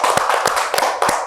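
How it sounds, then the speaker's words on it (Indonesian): An audience applauds to welcome a guest on stage: dense, loud, close clapping with a few sharper beats standing out in a loose rhythm, with no talk over it. "Tepuk tangan dong."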